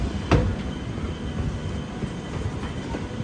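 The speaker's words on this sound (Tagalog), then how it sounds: "parating na yung train" A commuter train pulls into a station in Perth with a steady rolling rumble and a sharp clack near the start, close and fairly loud, with no voices.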